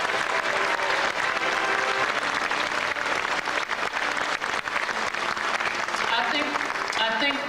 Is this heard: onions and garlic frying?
no